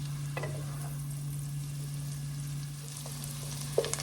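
Garlic and onions fry steadily in bacon grease for potato and bacon soup, a soft continuous crackle with a low hum beneath and a couple of faint clinks near the end.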